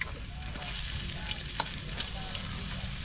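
Ginger, garlic and onion sizzling in hot oil over high heat, a steady close crackling fry with occasional stirring scrapes and no talk.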